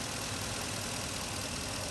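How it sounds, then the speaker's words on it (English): A 2016 Ford F-350 Lariat pickup with a 6.2L engine idles in a steady, even drone, heard close with no talk over it. "Engine runs good."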